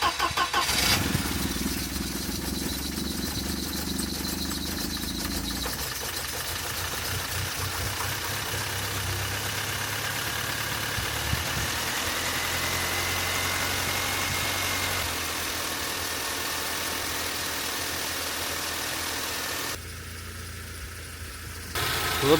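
A Mercedes W124 230 four-cylinder petrol engine, just repaired after a head gasket job, cranks and fires, then settles into a steady, smooth idle that runs on close by and alone for the length of the recording.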